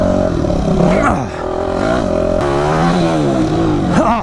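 Motocross motorcycle on a canyon vet track, engine roaring loud and close as the throttle is rolled on, pitch climbing and dipping through repeated surges, with a rider's voice shouting over it.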